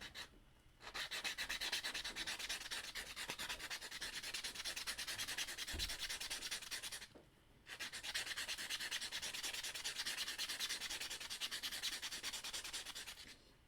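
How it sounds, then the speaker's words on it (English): A sanding block scrubs rapidly back and forth against plastic in a steady, fine rasping rhythm, pausing briefly twice before resuming, close and fairly quiet. "I've got a sanding block here"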